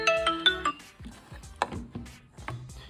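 A phone rings when the find-phone feature on a Redmi Watch 4 is triggered: a short melodic ringtone burst up front, then scattered softer tonal blips and light clicks.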